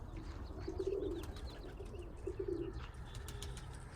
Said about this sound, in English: just sit here and watch the birds fly basically and enjoy them